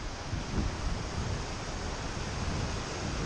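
The Kora River in the Dzungarian Alatau mountains flows as a steady, broad rushing wash of water that holds an even level throughout, with no voices over it.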